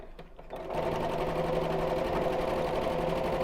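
Sewing machine stitching along the edge of a bag, starting after a brief pause and then running as a steady, fast mechanical whir with rapid needle chatter.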